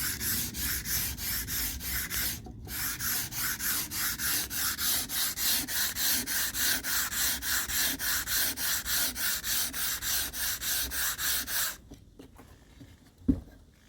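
Sandpaper is rubbed along the grain of wood in a steady back-and-forth rhythm of close, even scratching strokes, ending with a few softer rubs and a knock.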